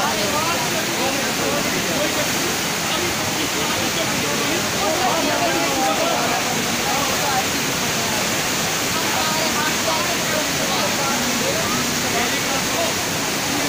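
Floodwater rushes loudly down a river in Sewa tehsil, Bani, Kathua district, a dense, continuous broadband roar with no letup, and a voice speaks faintly beneath the torrent.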